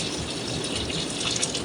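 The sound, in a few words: hot water being poured into a cooking pot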